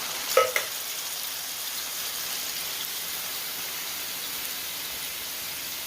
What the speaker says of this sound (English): I like when the kraut gets a little bit of like fried too.